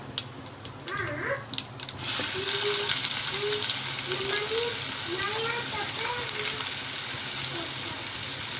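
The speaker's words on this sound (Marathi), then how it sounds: "जिऱ्याला मस्तपैकी तडतड फोडणी आल्यानंतर त्यामध्ये कांदा टाकायचा" Cumin seeds hit hot oil in a home kitchen and burst into a sudden loud sizzle with fine crackling that holds steady, while voices talk softly in the background.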